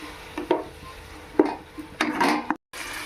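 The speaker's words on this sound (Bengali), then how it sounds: "এবারে মশলাটা কষিয়ে নেব।" Spices are stir-fried in a cooking pan for a mushroom and potato curry, with a utensil scraping and knocking against the pan in several short, close strokes over a soft background sizzle.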